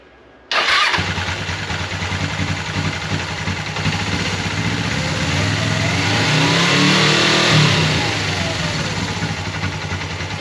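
A 1989 Suzuki GS500 motorcycle engine starts abruptly and idles steadily up close, rising in a smooth rev before settling back to a running idle, loud throughout.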